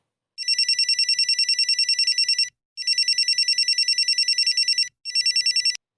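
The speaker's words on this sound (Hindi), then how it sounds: "मेरी नींद रात के 2 बजे फोन के बजने से खुली।" A telephone rings at night in three loud, close bursts of rapid electronic trilling, separated by short silent gaps, with the last burst cut off abruptly.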